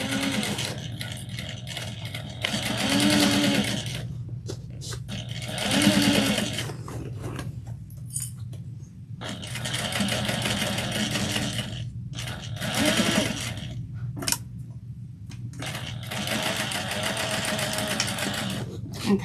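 A sewing machine stitches over the handles of a bookish tote bag in several fast, close bursts separated by short pauses, with a steady hum underneath.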